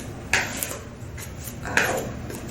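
Dry muffin ingredients are stirred in a bowl, with two distinct scraping clinks of a utensil against the bowl, spaced about a second and a half apart, quiet and close.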